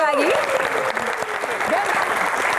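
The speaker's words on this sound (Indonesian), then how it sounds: "Tepuk tangan sekali lagi." Steady applause from a crowd fills the whole stretch, dense and continuous, with a few faint tonal sweeps sounding over it.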